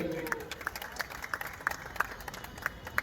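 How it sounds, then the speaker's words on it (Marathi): Applause from an audience with sharp, regularly spaced claps standing out, fairly quiet overall, and some faint voices mixed in. "जोरदार टाळ्या अंकुश चौधरीसाठी."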